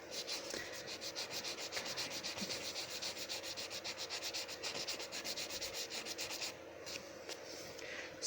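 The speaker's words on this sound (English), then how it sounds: "just make sure when you're buffing them you get into those sides" Fingernails buffed with a nail buffer, a soft, fast rhythmic rubbing that runs steadily and fades slightly toward the end, quiet and close with no talk.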